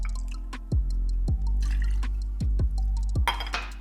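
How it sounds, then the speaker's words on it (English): Fresh squeezed lemon juice poured into a cocktail shaker holding ice, heard as a close series of drips and plinks over a steady low background. "Next, add 1 ounce of fresh squeezed lemon juice."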